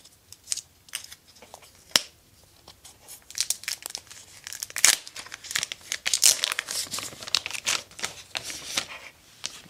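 Protective plastic packaging being peeled and crinkled off a new rugged smartphone, a busy run of close crackling, rustling and tearing bursts with sharp snaps, no voices.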